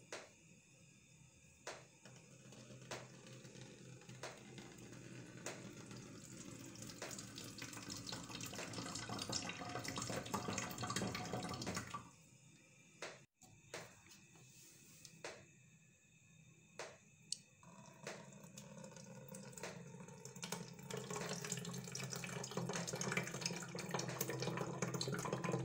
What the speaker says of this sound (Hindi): डालने के लिए जो मैंने जग लिया है इसको आप देखें, ये यहाँ से इस तरह से होना चाहिए ताकि बॉटल्स में हम बहुत आराम से और आसानी के साथ डाल सकें